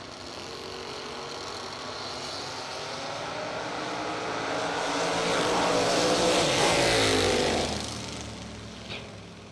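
Drag racing cars, a Ford Maverick and a Roadster, launching in a bracket race, a loud sustained engine roar that swells to a peak and then fades as the cars pull away.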